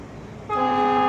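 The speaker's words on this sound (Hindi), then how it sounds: "ये इंडियन रेलवे का हॉर्न है।" An Indian Railways goods train horn sounds a loud, sustained tonal blast that begins abruptly partway through and holds steady, heard up close over a low background rumble.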